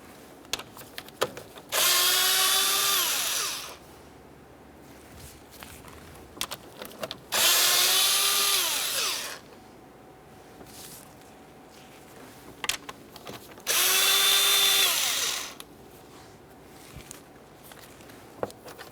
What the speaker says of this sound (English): you're going to find 3 7mm headed bolts. Remove all 3 and the plastic